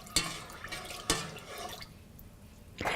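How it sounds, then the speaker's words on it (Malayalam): Chopped banana flower being rinsed in a bowl of water mixed with turmeric, giving two sharp splashy sloshes followed by softer dripping and trickling, close and fairly quiet, with no talking. "നമ്മൾ കട്ട് ചെയ്ത് വെച്ചിരിക്കുന്ന വാഴച്ചുണ്ടിട്ട് നന്നായിട്ട് കഴുകിയതിന് ശേഷം ഡ്രെയിൻ ചെയ്തെടുക്കുക."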